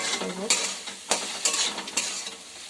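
Turmeric and cumin powder are stirred in a frying pan with a soft sizzle underneath. A spatula scrapes the pan in short, sharp strokes at an uneven rhythm, close and clear.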